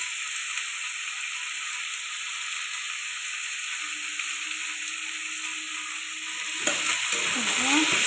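Spices with salt and turmeric frying in a pot for ghugni, a soft steady sizzle and hiss with a faint tone, then louder scraping stirs near the end, close and without voices.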